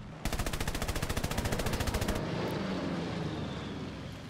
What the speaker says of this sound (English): He's got a rear gunner that's very scary. No, ow. Is that a 20 mil rear gunner?